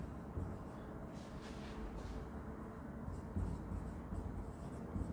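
A pen writes on paper with soft, close scratching strokes that come in short bursts over a low background rumble, with no talking.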